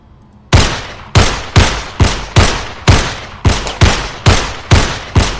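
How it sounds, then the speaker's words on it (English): Eleven sharp gunshots from a body cam horror video game fire in a fairly even, rapid rhythm, each a loud close crack with a short decaying tail, with no talking. "I guess I'll just shoot at random things until something happens."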